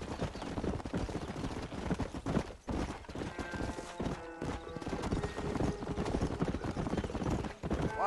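Horse hooves clip-clop with occasional neighs and whinnies in the Western video game Red Dead Redemption, steady throughout under a dense game soundscape with some distant gunfire-like bursts.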